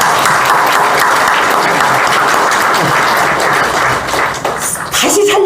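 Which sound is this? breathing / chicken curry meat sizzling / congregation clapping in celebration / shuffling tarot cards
congregation clapping in celebration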